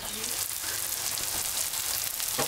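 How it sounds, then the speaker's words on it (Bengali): Onion and lentil fritters fry in hot oil with a dense, bright, continuous sizzle, close by and moderately loud, with faint background voices. "পেঁয়াজি ভাজা হচ্ছে, মুসুর ডালে"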